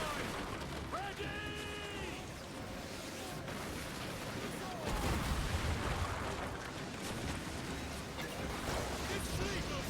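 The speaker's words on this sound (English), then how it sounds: "Uncork the cannons, lad! Fire!" Ship cannons fire in Assassin's Creed IV naval combat, with heavy booms rumbling through dense battle noise and a louder broadside burst midway, while voices shout over the din.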